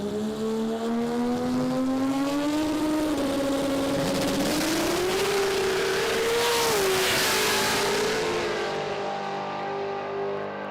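Drag cars, including a 2JZ-powered VL, launching and accelerating down a quarter-mile strip at a qualifying event, with a loud, continuous rising engine howl that climbs in pitch over about ten seconds.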